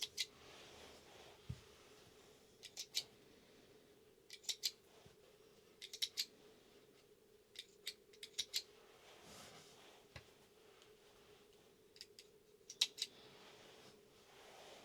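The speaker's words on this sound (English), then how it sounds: "I just go through and just snip them apart" Sharp scissors snipping apart chain-sewn dress fabric pieces, about a dozen crisp close cuts coming singly and in quick pairs over a quiet room hum, with no talking.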